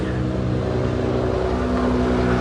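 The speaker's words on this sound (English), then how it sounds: "Helicopter." A loud, steady droning rumble of a helicopter overhead, with a pulsing low thrum throughout and no voices.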